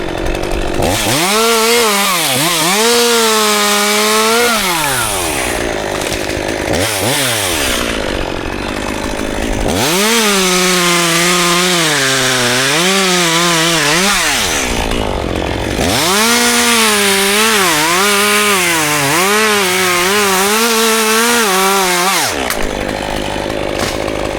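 A loud chainsaw cuts into tulip tree wood up in a tree, its engine revving and bogging in three long cutting passes separated by brief idling, close and continuous without speech.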